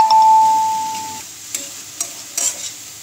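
Mushrooms stirred in a pan with sugar and chili powder, a steady tone at the start, then a few sparse scrapes of a spoon against the pan over a low background hiss.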